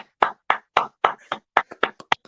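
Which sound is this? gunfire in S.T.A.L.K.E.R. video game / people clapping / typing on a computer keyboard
people clapping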